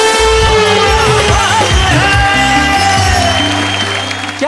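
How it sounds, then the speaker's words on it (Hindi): Loud welcome for a poet coming on stage at a Hindi comedy poetry gathering, with applause and crowd noise running under strong stage music throughout. "आइए जोरदार तालियों के साथ।"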